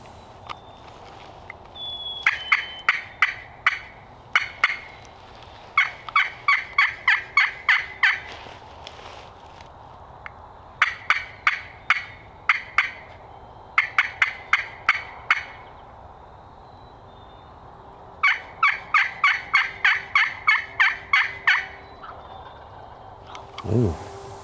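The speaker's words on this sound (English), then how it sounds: "Point to where that bird's gobbling." Wild turkey gobbling repeatedly on Minnesota public land, several bursts of rapid rattling gobbles at moderate distance, spaced a few seconds apart, with quiet outdoor ambience between calls.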